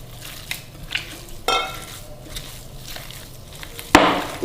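Beef kofta mixture with egg being mixed by hand in a bowl, soft squelching and stirring sounds with a few sharper knocks against the container, close and intermittent.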